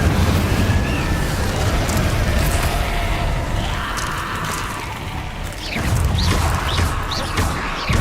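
A fire spell blast in Hogwarts Legacy, heard as a loud, sustained roaring burst with crackling and whooshing layers, then a second swell of rumbling impact near the end, without any speech.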